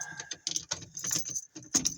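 Car keys jangle in bursts of bright metallic clinking, close and loud, with short pauses between shakes.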